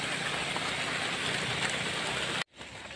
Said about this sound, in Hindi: लेकिन बारिश बहुत तेज़ हो गई, उसमें से भी पानी आने लग गया